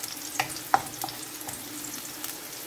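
Sayote and other vegetables sautéing in canola oil with garlic and onion give a soft, close sizzle, broken by a few sharp clicks of stirring utensils.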